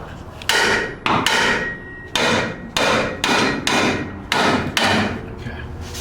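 Repeated heavy hammer strikes while fitting a transmission on a turbo LS Nova, at a slightly uneven pace, about eight close thuds with short ringing decay between them.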